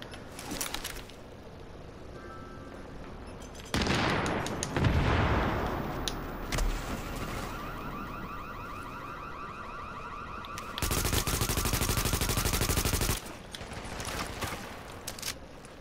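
Gunfire in The Division, with sharp shots and dense bursts of automatic fire between steadier stretches of game ambience, some sections loud and sustained, others lighter and sporadic.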